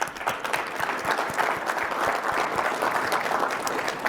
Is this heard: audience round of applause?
yes